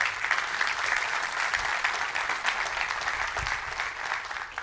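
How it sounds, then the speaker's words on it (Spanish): A church congregation claps loudly and steadily throughout, a dense sustained applause with no break. "Den un fuerte aplauso a Dios por eso."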